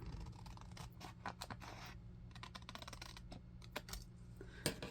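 Scissors cutting paper for a journal pocket, a run of close crisp snips and rustling clicks in quick irregular bursts, with no talk.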